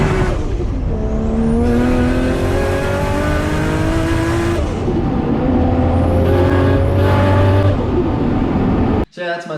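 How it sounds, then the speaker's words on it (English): A built RB25 engine in an R33 Nissan Skyline revs loudly and close by, climbing through several rising pulls with a throttle blip between them, then cuts off sharply near the end. "this is my R33 Skyline. I built this RB25, so I'll chuck in a short clip."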